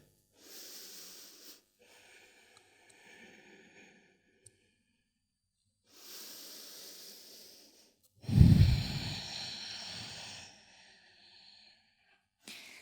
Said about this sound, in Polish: Jeszcze dwa oddechy, dwa głębokie oddechy całą powierzchnią płuc.